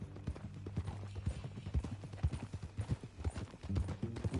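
Horse hooves clip-clopping at a steady walking pace in Red Dead Redemption 2, a faint, even rhythm of close hoofbeats with no talk over it.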